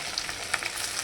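Semolina-coated fish sizzling in hot oil, a soft steady frying hiss with light crackles, close and fairly quiet.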